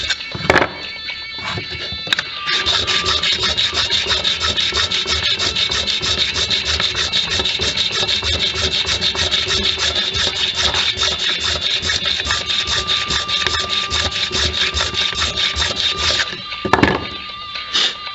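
A metal file strokes steadily along the edge of a steel card scraper, a dense rhythmic rasping scrape repeated rapidly and evenly for about fifteen seconds, close and loud, with a few bumps at the start and end.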